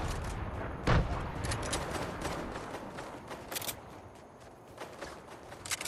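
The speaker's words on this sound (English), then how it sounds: "Who the fuck is shooting over here?" Scattered gunfire in a multiplayer shooter game, with a loud nearby shot followed by softer distant pops and crackles over a steady busy background.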